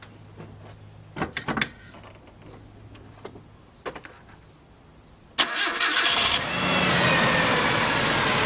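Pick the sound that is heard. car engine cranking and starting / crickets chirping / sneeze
car engine cranking and starting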